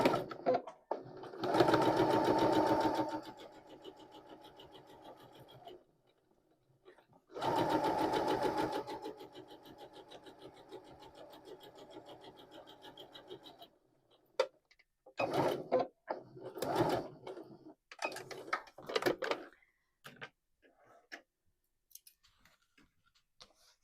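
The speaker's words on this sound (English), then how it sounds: "And we're going to sew down there." A sewing machine stitching a quarter-inch seam on a fabric sanitary pad pouch, with two sustained whirring runs of rapid needle clatter followed by several short bursts, separated by quiet pauses and faint handling clicks.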